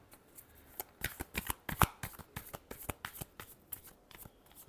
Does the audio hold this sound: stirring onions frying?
no